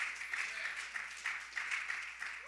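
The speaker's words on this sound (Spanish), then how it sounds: "Vamos a darle un aplauso al Señor" A church congregation applauding, with steady, fairly faint clapping from many hands heard at a distance, no clear talk over it.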